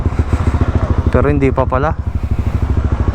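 Motorcycles at a CB150X riders' club gathering chug and idle nearby with a steady pulsing engine beat, loud and continuous, while someone briefly talks over them midway.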